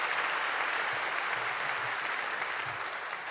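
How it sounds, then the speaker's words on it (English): Audience applause at an evening music performance greets the keyboard player, a dense, steady wash of clapping that holds at full strength and fades slightly toward the end. "So let's give him a round of applause."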